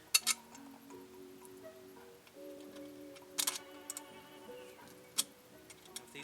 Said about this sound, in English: Put the bolt on from the inside.